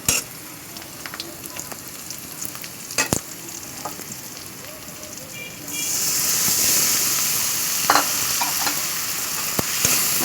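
Turmeric, chili and coriander powder sautéing with lightly fried onion and small hilsa fish for a thin curry, a close crackling sizzle that swells loudly midway, with occasional clinks and stirring scrapes.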